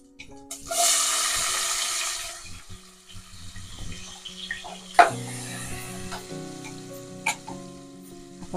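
Sliced onions dropped into hot oil in a pan for a fish curry, giving a loud burst of sizzling that settles into a steady fry with clinks of a stirring utensil, close, with no talking.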